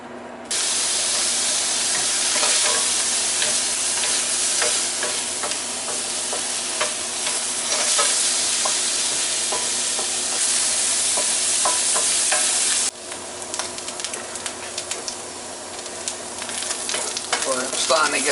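Mushrooms and onions frying and being stirred in a pan, a loud steady sizzle with scraping stir strokes throughout, easing slightly toward the end.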